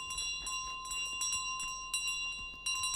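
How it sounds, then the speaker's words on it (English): Repeated bright metallic dings of a bicycle bell in Untitled Goose Game, several quick rings in bursts over a steady game ambience with a constant tone underneath. "The bicycle with the bell."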